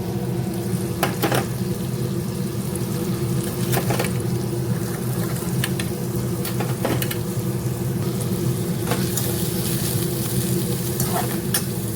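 Chicken and vegetables fry with butter in a pan. A steady, dense sizzle runs throughout, and occasional sharp clicks of stirring or utensils sound against the pan.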